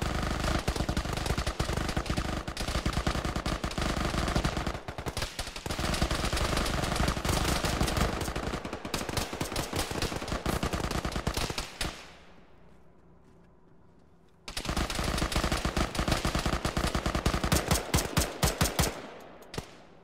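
Dense, continuous automatic-weapon fire and rapid gunshots rage in a military tactical shooter game, dropping to a quiet lull briefly before the heavy firefight resumes at full loudness.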